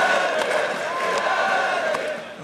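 A packed esports arena crowd at a League of Legends finals between Fnatic and Origen cheers and chants in a steady, dense roar, with a commentator's voice running over the noise.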